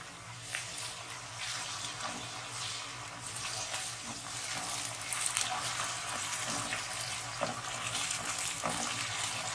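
Onions with ginger-garlic paste sizzling in a pan for matar pulao, a steady broadband fry with occasional scraping stir clicks, close and moderately loud, no talking.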